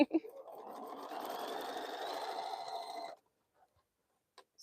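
A sewing machine stitches small crumb quilt pieces in a steady, even whir for about three seconds, close by, then stops, leaving faint clicks.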